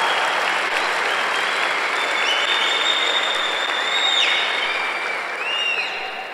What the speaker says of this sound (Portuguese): Então dá um aplauso a Jesus.